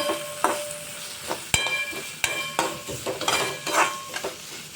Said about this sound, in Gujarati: હવે આપણે બધા જ શાકભાજીને કૂક કરશું થોડીક વાર માટે